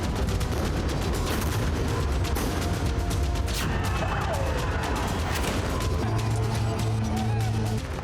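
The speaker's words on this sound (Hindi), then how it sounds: "गोलियां दागी जा रही" Dense, continuous crackle and rumble of gunfire during street unrest in Kazakhstan, a chaotic outdoor scene with shouting voices mixed in and a siren-like tone rising near the end.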